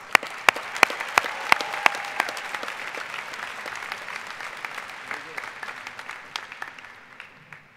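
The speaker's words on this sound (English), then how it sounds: "Please join me in a round of applause to all the PhD graduates." A large audience applauds PhD graduates at a 2017 Heinz College diploma and awards ceremony, a dense, steady roar of many hands clapping with a few sharper claps standing out early, easing slightly toward the end.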